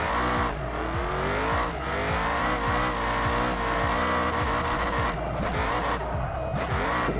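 Car drifting in the BeamNG driving game, a steady loud engine drone with repeated tire squeals and skidding chirps sliding in pitch, continuous throughout with no talk.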